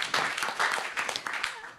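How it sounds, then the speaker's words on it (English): Brief, fairly quiet audience applause at the close of a health-tech pitch session, a patchy burst of clapping that thins out toward the end. "One last round of applause for Emily, please."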